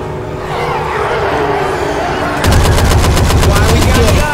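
Rapid gunfire from the video game Diescraper, a burst of sharp repeated shots that turns into a loud, evenly spaced automatic volley in the second half, with faint voices under the game sound.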